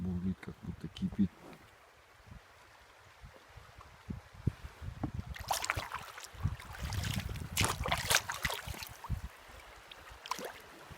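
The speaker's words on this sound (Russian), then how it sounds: "Вода вообще бурлит, как будто кипит." Water of a mountain river churns and burbles during a spring rafting trip in snowy weather, faint and steady, with knocks and splashes from the boat and a voice talking at times.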